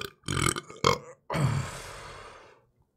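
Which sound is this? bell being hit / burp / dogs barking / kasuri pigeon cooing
burp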